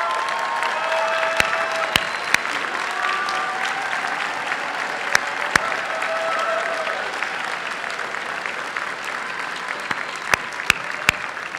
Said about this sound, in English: receive a special round of applause from all of us